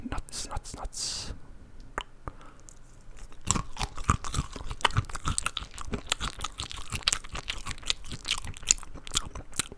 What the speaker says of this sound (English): Eating a lot of crunchy carrots and celery and nuts.